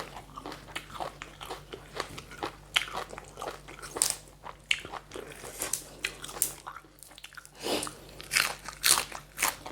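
Crunching bites of crisp fresh raw vegetables eaten with larb, a series of close, sharp crunches and chewing sounds spaced irregularly over quiet background, with no talking.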